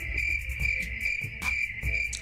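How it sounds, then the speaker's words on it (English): Crickets chirping as a comedic silence cue on a talk show, a steady high-pitched trill with rhythmic pulses, loud and alone with no talking. "I hear crickets."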